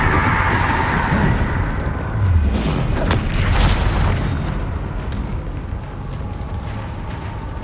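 Confringo spell blasts in the Hogwarts Legacy video game come as loud, continuous booming explosions layered with crackling debris and a rushing roar that swells and eases without pause, with no voices.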